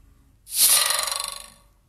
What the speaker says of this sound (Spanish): ese es el, sonido del WhatsApp de, de la familia